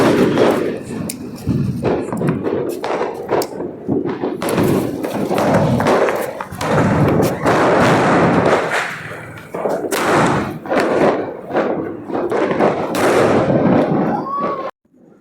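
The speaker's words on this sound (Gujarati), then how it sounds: "બહુ સરસ મજાના ફટાકડા પણ ફોડ્યા" Repeated Diwali firecracker bangs and thumps burst in quick succession, loud and close, with voices chattering and shouting in between.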